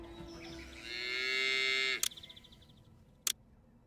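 A single long, loud cow moo from a cattle ranch in the game Pharaoh: A New Era swells and holds for about two seconds, then cuts off, followed by a couple of sharp interface clicks.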